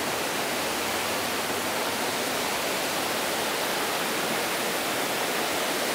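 Loud, steady roar of Mây waterfall in Thanh Hoá, a dense broadband wash of falling water filling the whole scene without pause or break, close and overwhelming.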